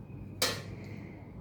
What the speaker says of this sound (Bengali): ঢাকনা দিয়ে দিলাম।